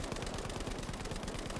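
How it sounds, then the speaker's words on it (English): A Lewis Gun light machine gun fires in Battlefield 5, a continuous rapid stream of loud, close, evenly spaced shots at a steady automatic cadence with no pauses or talk. "It's an LMG with a 47 round magazine, 540 round per minute rate of fire, and 350 meters per second bullet speed."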